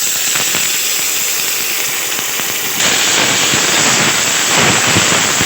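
Ginger, garlic and chili paste with cumin powder sizzle steadily in hot oil, a loud continuous hiss and crackle that swells partway through as the paste spreads.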